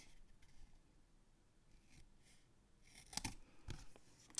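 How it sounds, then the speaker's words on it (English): Scissors cut away corner sections of scored paper for a lip balm gift box: a quiet, soft rustle first, then a cluster of short, close snips near the end. "we're going to go ahead and cut away this corner here."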